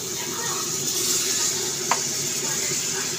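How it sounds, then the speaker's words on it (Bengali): About a cup of water poured into a hot pan of mushroom chicken, a continuous sizzling hiss, fairly close and steady, with one brief sharp tap midway. "1 কাপের মতো জল দিলাম।"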